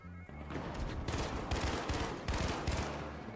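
Gunfire from a weapon in The Finals Season 2 shooter game: several sharp, rapid bursts of shots, close and loud, separated by brief pauses.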